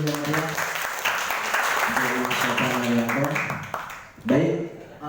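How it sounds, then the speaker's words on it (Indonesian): An audience at a Muhammadiyah youth training event applauds in a lively burst of clapping that carries for several seconds, mixed with people's voices, then trails off as a speaker continues. "Tepuk tangannya dulu yang meriah."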